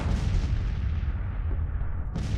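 Artillery fire in the Civil War strategy game Grand Tactician: The Civil War, a steady low rumbling barrage of booming shots filling the whole moment, with a sharper report near the end.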